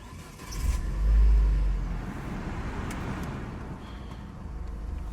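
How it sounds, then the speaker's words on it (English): A Renault Laguna Coupe's four-cylinder engine cranks and catches with a low surge, then settles into a steady, even idle rumble heard up close. "You see, very nice 4-cylinder engine sound"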